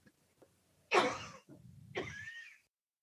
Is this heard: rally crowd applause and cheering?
no